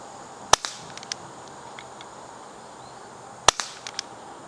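Two sharp, snappy shots from an Umarex Avera .177 CO2 air pistol firing 8.1 grain wadcutter pellets, about three seconds apart, each followed by faint pellet impacts in a quiet setting.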